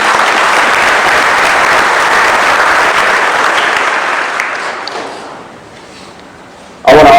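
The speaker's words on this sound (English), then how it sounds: "So can we give yourselves a round of applause for being here?" An audience gives steady, dense applause at a fire academy graduation ceremony. The clapping fades gradually toward the end, and a brief loud sound cuts in at the close.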